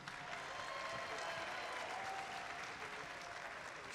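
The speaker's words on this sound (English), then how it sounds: "So one more time, a quick round of applause for you," A large audience at a competition event gives a round of applause: dense, steady clapping that holds at an even level throughout, sounding broad and somewhat distant, as from a big hall.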